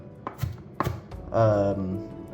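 Onions are chopped with a knife on a board in a few quick, sharp knocks before a voice comes in up close and continues to the end.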